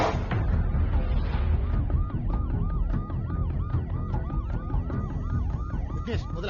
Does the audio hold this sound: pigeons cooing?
no